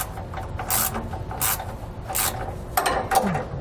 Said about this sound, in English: hold the nut on the top while we turn the bolt on the bottom